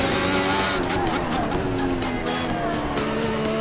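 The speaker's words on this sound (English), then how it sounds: "Second gear into the first hairpin. Lift off and shift down for turn 2." A Formula 1 car from a racing video game at the Portuguese Grand Prix at Portimão drops down through the gears into a hairpin. A loud, continuous engine whine shifts pitch in steps, with faint tyre noise underneath.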